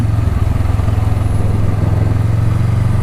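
A motorcycle engine drones steadily at close range, a low rumbling hum that holds even throughout without pause.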